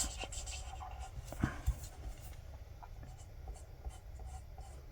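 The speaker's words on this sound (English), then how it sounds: "Just get some colour down and saturate the paper with the ink" Alcohol markers colouring a stamped card, the felt tips scratching and rubbing steadily across paper as ink is laid down to saturate it, close and quiet with a few brief louder scrapes, no voices.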